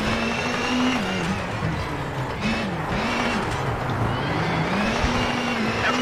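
A damaged Toyota Yaris WRC rally car engine drones loudly and steadily in a racing video game, its pitch rising and falling through gear changes, with a co-driver calling pace notes over it.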